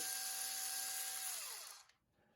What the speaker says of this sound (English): I'll get this one open up so you guys don't have to listen to the drill